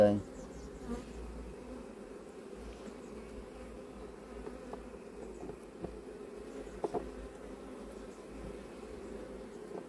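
A soft, continuous buzz of many honeybees close by around a hive, with occasional light taps and knocks, quiet and without talking.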